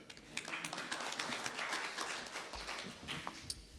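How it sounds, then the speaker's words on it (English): Audience applause at a conference session, a soft spread of scattered hand claps that holds steady and sounds moderately distant. "Big applause for Andrew."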